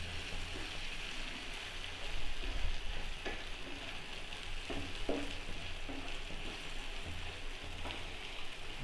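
Eggs and tomatoes cook in a pan with a quiet, steady sizzle and soft crackles, along with occasional scraping and stirring clicks.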